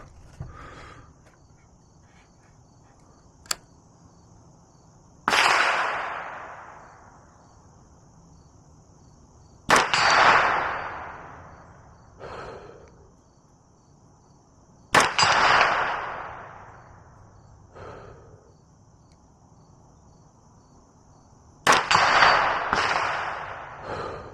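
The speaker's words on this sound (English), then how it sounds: "we're going to go ahead and do a 5-round group at 50 yards and see what we get" Five rifle shots in a five-round group at 50 yards, each a loud sharp crack with a decaying echo, spaced several seconds apart outdoors with crickets chirping steadily in the background.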